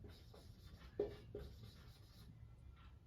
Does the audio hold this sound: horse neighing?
no